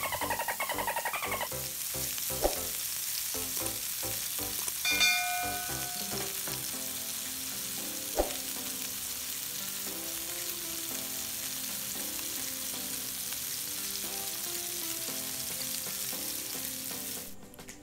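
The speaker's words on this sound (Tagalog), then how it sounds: "So let's fry our patties. No need to add oil" Beef burger patties frying in their own rendered fat without added oil, giving a steady, dense sizzle and crackle close up from start to end with no talking.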